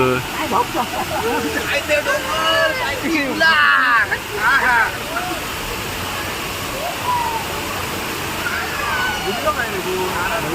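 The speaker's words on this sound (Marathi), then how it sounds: "आता आम्ही फायनली धबधब्याकडे येलो" Waterfall at Amboli roars as a steady broadband wash, with a large crowd around it; several people talk and shout over the constant rush of water, their voices close and loud at times.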